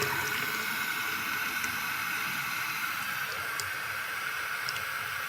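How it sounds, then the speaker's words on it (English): Water flowing back through clear tubing into an aquarium, a steady unbroken hiss and trickle from start to finish at an even level, with a few faint ticks and no talking. "you can see that the water's flowing back into the tank"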